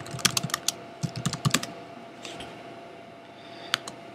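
A command is typed on a computer keyboard at a network router console in a quick, uneven run of close clicky keystrokes that thins out, with a final key press near the end and no voices.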